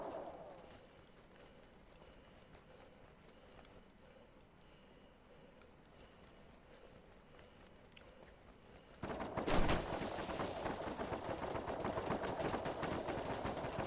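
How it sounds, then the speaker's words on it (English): Gunfire in the video game Star Citizen aimed at the player's ship. A quiet, low stretch gives way to a sudden loud burst of rapid, dense shots that continue to the end. "they're shooting at my ship already"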